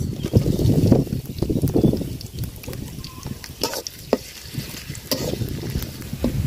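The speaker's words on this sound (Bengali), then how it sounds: "পেঁয়াজটা আর মরিচটা আমি ভাজা নিছি সুন্দর করে" Onions and green chilies sizzle and crackle in hot oil, with stirring scrapes and knocks throughout.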